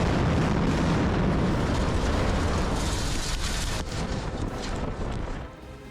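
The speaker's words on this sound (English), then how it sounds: "With a thunderous explosion, a highway bridge in Germany transformed into a fireworks show of steel and concrete in a spectacular" Explosive demolition of a highway bridge in Germany: a massive roaring blast of steel and concrete gives way to a long rumbling wash of debris that slowly fades over several seconds.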